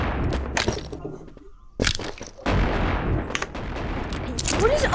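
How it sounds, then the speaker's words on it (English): Shotguns fire in the VR game Animal Company as several sharp cracking blasts, some loud and close, mixed with game noise and bursts of player talk. "What is up with the shotguns?"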